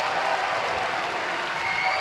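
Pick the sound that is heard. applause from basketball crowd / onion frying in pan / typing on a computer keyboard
applause from basketball crowd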